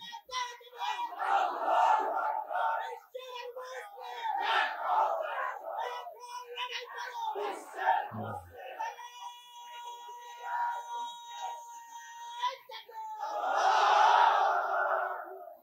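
A large crowd at a Bangladeshi Islamic sermon gathering roars back together in loud, swelling shouts of the takbir, with several bursts of massed voices and a quieter stretch before the final surge.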